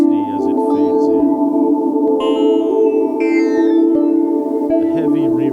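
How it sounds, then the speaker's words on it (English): Higher synth pitches from patch 60 gradually fade in over a sustained, heavily reverberant electronic dub drone with echoing tones and a steady loud bed throughout. "So you can hear some higher pitches now from patch 60 as it fades in."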